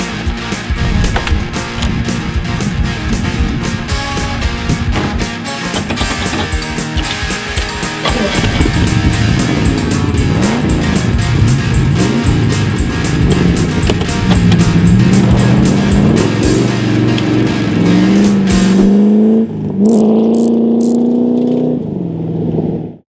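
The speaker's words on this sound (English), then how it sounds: "we are actually driving the Corvette." A 1970 Corvette driving, its engine a loud continuous rumble with rising revs and shifting pitch throughout, ending in a few brief sharper sounds as the run cuts off.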